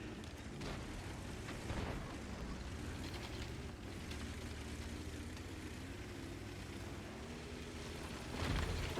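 Artillery shell explosions in the World of Tanks video game, a sustained low rumbling blast that stays loud throughout, with a sharper burst near the end.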